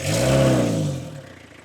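A Mitsubishi L300 van's 4D56 engine revs once, rising to a loud, rough roar that holds for under a second before falling back to a quieter idle rumble.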